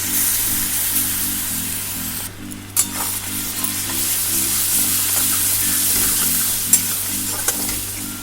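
Cinnamon, cloves, cardamom and chopped garlic sizzle in hot oil, a loud steady frying hiss with soft stirring scrapes and a few sharp spits, a low hum running beneath.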